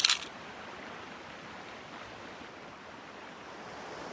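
A camera shutter snaps once at a fast speed at the very start, sharp and close, then rushing river rapids roar steadily on their own.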